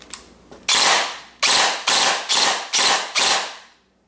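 An Ares G36C airsoft rifle fires several rapid, loud bursts in close succession, each a sharp mechanical rattle of shots, heard up close with no talking.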